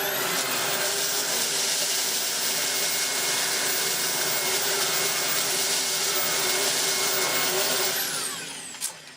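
A Beko VRT6221P robot vacuum running on its high setting sweeps up Rice Krispies, a loud, steady whirring drone close by that holds unbroken before dropping off at the end, with no talk.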